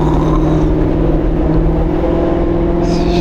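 A Corvette C7 Z06 with a manual gearbox holds a loud, steady, droning engine note, close and continuous, with no talking over it.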